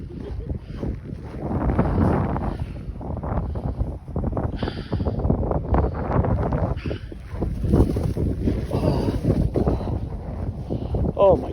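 Outdoors the day after a blizzard, wind gusts buffet the microphone in a steady low roar lasting throughout, with a person talking over it.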